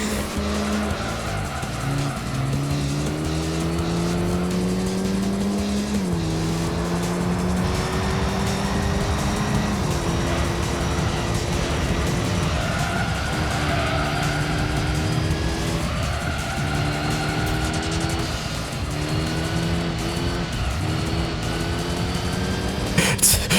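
An Audi A2 driven in Gran Turismo 3 during a silver A license test: a steady, continuous game engine drone with rising and falling pitch through gear changes, and tire squeal and skidding through corners, loud throughout.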